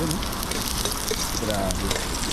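Ginger and onion sautéing in a pan outdoors in a forest, a dense, steady sizzle that is close and loud, with a faint voice in the background.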